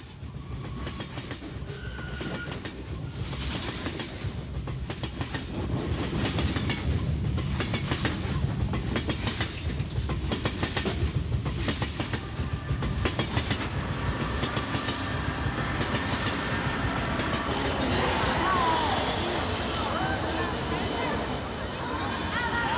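A passenger train pulling into Lhasa station in Tibet after a long run from Golmud: close, rhythmic clickety-clack of wheels over rail joints, with rumbling carriages, a brief wheel squeal and a voice talking over it.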